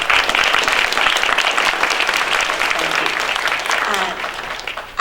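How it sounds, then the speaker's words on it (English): An audience at a farm bureau candidate night gives the candidates a round of applause, a dense, loud and sustained clapping that fades slightly toward the end. "let's just give all the candidates another round of applause."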